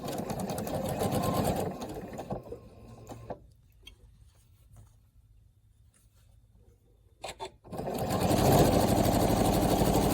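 Quilt squares are sewn into a four-patch unit on a sewing machine, with a steady close whir at the start, a quiet pause with faint handling noises, then the machine running again loudly.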